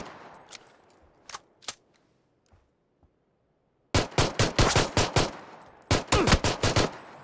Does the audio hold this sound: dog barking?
no